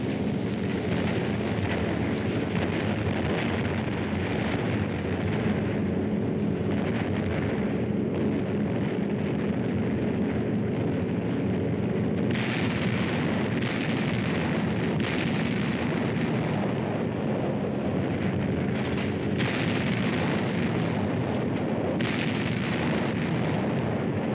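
Massed aerial bombing during the WWII Italian campaign, with nearly 1,000 fighters and bombers striking German strong points: a continuous, loud roar of explosions and rumbling blasts that rolls on without pause and surges in intensity about halfway through.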